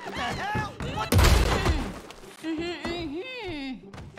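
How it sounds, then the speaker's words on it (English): A single loud, sharp crash as a lock is broken in Red Dead Redemption 2 in hardcore mode, standing out briefly between stretches of someone talking. "Hang on, I'll break the lock."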